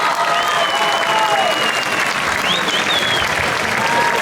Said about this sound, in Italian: quindi si merita tutto l'applauso